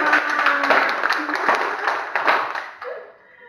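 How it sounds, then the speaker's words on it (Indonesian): Applause from a small crowd, steady clapping for about three seconds that tapers off at the end. "Iya, tepuk tangan dulu."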